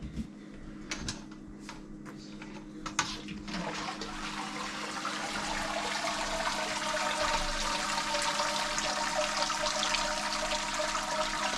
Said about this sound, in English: This is actually draining real nice though.